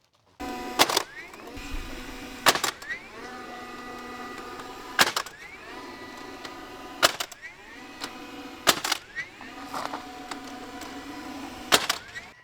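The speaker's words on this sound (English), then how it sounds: "Let's go staple off the post" A DeWalt 20V cordless staple gun fires into a post, sharp snapping shots spaced every couple of seconds over a humming background, with faint voices nearby.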